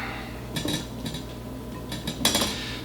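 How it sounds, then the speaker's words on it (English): A paring knife scraping seeds out of a halved zucchini: two clusters of quick metallic scrapes and light clicks against a board, close and fairly crisp over low background hum. "slide your paring knife in there and pop the seeds right out"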